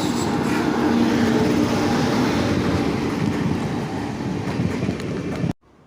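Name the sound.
Kanyakumari Pune Express train passing on railway line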